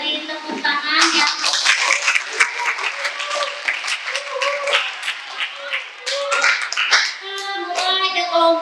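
Students in a high school class (SMAN 1 Klari) applaud a group after its da'wah presentation, with many hands clapping in a lively, uneven burst close by and voices chattering underneath.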